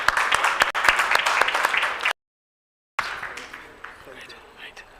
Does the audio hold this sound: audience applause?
yes